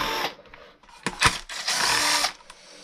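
A power tool, likely a drill-type driver, spins bolts out of a Traxxas E-Revo RC truck's shock mounts in several bursts, loud and close, with short pauses and a longer whirring run near the end.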